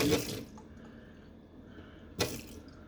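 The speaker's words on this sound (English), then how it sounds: "1 cup of hot tap water" Hot tap water pours into a 2-cup measuring cup in a home kitchen, two short splashing bursts of running water separated by a quieter stretch, close and moderately loud.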